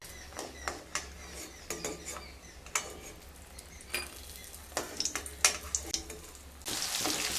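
Small prawns frying in hot mustard oil in a kadai for a Bengali pui mituli chorchori, a steady close sizzle under repeated sharp clinks and scrapes of a spatula against the pan, with a louder hiss rising at the end.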